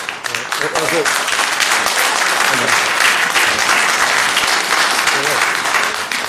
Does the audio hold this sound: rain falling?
no